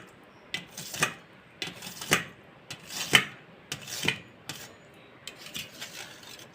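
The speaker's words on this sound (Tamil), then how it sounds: "நான் தோசை திருப்பி வச்சே கட் பண்ணுறேன்." Set jelly being cut into small pieces with a dosa spatula, a series of soft scraping, tapping strokes on a pan or plate, about eight spaced hits at close range with no talking.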